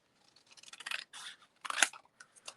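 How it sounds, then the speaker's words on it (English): Scissors cut through craft paper in short, crisp snips and slicing strokes. The cutting is quiet, close and irregular, in a few clusters. "don't want to cut butterflies, so let's cut that right about there."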